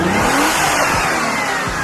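A twin turbo Nissan Z31, held together with duct tape, runs with its engine revving in steady, loud surges over a rough idle, close by, with no talk.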